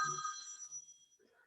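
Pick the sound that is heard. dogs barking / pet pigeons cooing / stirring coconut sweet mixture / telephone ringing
telephone ringing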